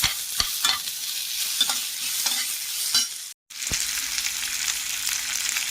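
Sliced onions with a pinch of salt fry in a pan with a continuous close, crackling sizzle. A few sharp stirring scrapes cut through, and there is a brief gap of silence midway.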